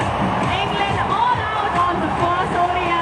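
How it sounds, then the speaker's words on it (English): A large cricket crowd at an India versus England one-day international reacts to India's win, a dense steady roar of cheering and chatter with voices talking close over it. "a big crowd here thoroughly enjoying this performance"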